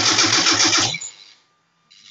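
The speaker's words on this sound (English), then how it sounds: "When I put it back on, the noise comes back and it sounds like a weird little motor sound." A weird little motor-like whir from a small sensor under the hood, loud and steady for about a second, then fading out, with a faint return at the very end.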